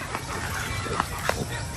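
A few short clucks from free-range chickens nearby on a coconut farm, over a busy outdoor background, with a couple of sharper calls standing out.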